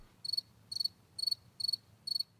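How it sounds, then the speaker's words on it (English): Crickets chirp as a sound effect, giving five evenly spaced, quick high trills, each made of several rapid pulses, clear against near silence. "Crickets."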